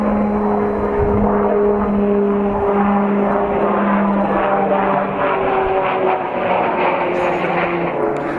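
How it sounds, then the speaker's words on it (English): Propeller airplane drones overhead outdoors, a loud continuous engine hum with steady tonal bands that holds throughout without any talk. "A plane would have to fly over right now."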